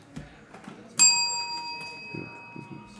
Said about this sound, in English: Deserves a hit on the bell there.